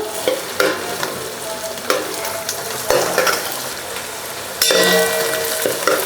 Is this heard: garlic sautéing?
yes